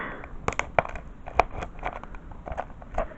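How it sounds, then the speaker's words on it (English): Crinkly cellophane wrapping being pried and torn off a DVD case with a screwdriver, a run of sharp, close crackles and snaps with a few louder pops, no talking. "this DVD is wrapped up in cellophane. So I'm just going to get a screwdriver so we can unwrap that right now"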